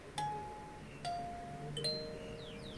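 A kalimba plucked three times, each bright, bell-like tine note ringing briefly and decaying, soft and close, with no talking during the notes.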